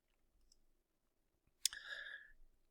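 A single sharp mouse click on a computer, close and crisp, followed by a brief fading tail in an otherwise quiet room.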